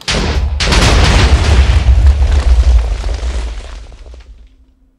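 A huge TNT explosion in Minecraft hits with a sudden loud boom, then a long, deep roaring rumble that slowly dies away over several seconds.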